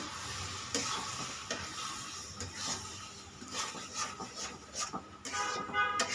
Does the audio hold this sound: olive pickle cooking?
yes